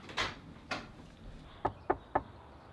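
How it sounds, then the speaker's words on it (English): Knocking on a door: two soft, hollow knocks are followed by three sharper, louder raps in quick succession against a quiet room background, with no talking. "Knock again. Louder this time."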